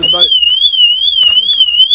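Car alarm wailing loud and close in a rising-and-falling siren tone, cycling steadily, with someone talking over it.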